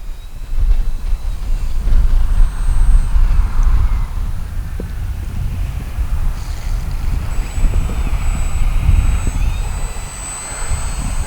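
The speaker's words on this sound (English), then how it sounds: "It's a good looking little plane." A small high-wing radio-controlled model airplane drones through the air with a faint, shifting electric whine that rises and fades as it passes, heard over steady wind rumble without clear speech.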